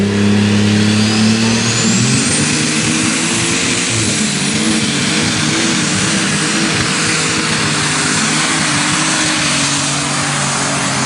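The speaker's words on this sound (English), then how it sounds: "At the starting line, driving the tractor, Larry Roberts always drove." An unlimited super stock pulling tractor revs at the starting line at a Wilmington, Ohio pull, its engine rising in pitch from a steady idle into a loud, sustained roar that dominates the whole recording.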